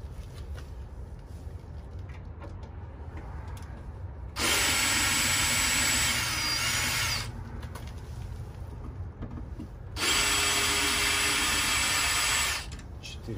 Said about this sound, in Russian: Берем шуруповерт.